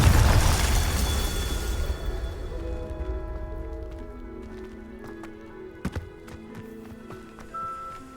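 The Confringo blast spell in Hogwarts Legacy lands as one loud, booming burst that rumbles away over about two seconds, followed by faint footsteps and small clicks.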